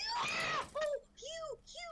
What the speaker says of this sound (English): That was a good scream.